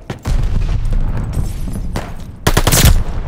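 Bursts of rapid gunfire from a Call of Duty: Vanguard match, a short volley near the start and a louder, denser burst near the end, with no talk over it.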